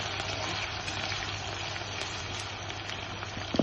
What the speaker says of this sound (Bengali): ছোট ছোট করে আলু কেটে হালকা ভেজে নেব